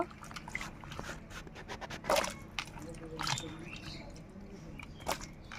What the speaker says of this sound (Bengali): এখান থেকে আমগুলো ধুয়ে এই পরিষ্কার জলে দিয়ে দেব।